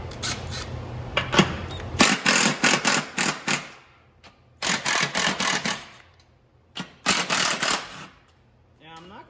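A ratchet loosens 15mm bolts on the deck of a John Deere S140 riding mower, giving three loud bursts of rapid clicking separated by short pauses, close up.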